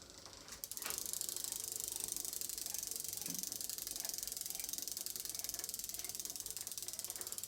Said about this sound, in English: So these things have got a freewheel rather than a free hub.